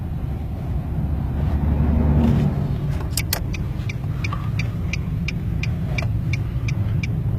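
Car rolling in neutral with its engine off at Wadi e Jinn near Madina: a steady, loud low tyre-and-road rumble, later joined by a faint, regular ticking.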